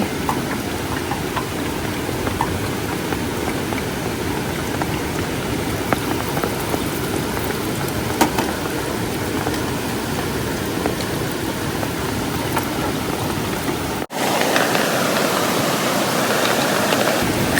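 Steady heavy rain hisses continuously, broad and close, at a tent campsite, with scattered drips and taps; partway through the tone shifts to a deeper rushing roar.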